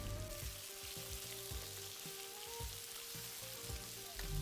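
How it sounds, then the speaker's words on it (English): Marinated pork belly stir-fries over high heat in a pan, a loud continuous sizzle broken by regular scraping and knocking of the stirring utensil, close up and with no voices. "Continuously stir-fry on high heat."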